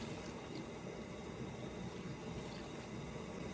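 Water pours steadily into a pot of plain chicken curry with thin gravy, seasoned with dried fenugreek and dried coriander; a continuous close, even splashing hiss with no voices.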